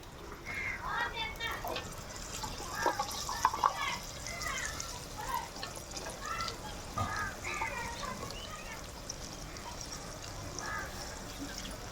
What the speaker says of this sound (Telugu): మంచినీళ్ళు అయితే పోసుకుంటున్నానండి కొంచెం.